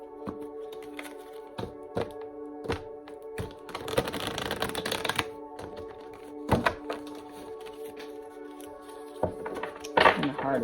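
Tarot cards are shuffled by hand on a table in a series of sharp riffles and taps, with a longer burst of shuffling in the middle, quiet and close under a steady background hum.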